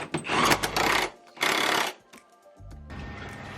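Tightening a subframe bolt on a Subaru Crosstrek during a lift install: two bursts of loud, rapid impact-wrench rattling, each about a second long, followed by a steadier mechanical whir, all close and with no talking.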